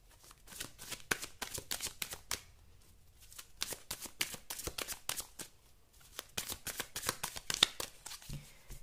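Tarot cards are shuffled by hand in quick, crisp riffling bursts that come in two main runs separated by a short pause, close and fairly quiet.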